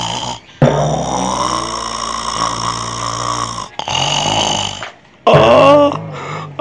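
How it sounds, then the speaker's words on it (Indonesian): A person snores loudly and close by, with long, rough, droning breaths separated by brief silent pauses. "Ngorok, aduh, apa-apaan ini?"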